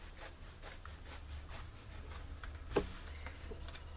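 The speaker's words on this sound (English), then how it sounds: "you just cut open the seam just like this" Scissors or a seam cutter work through a denim jeans seam, making faint, rhythmic rasping snips close by, with one slightly sharper snap near the end.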